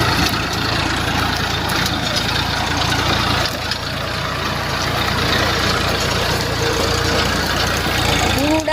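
A tractor running on dusty farmland, a loud, steady low engine rumble with a rough, knocking texture that continues unbroken throughout.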